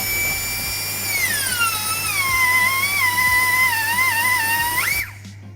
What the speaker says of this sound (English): Take a grind off the front of the nose nut.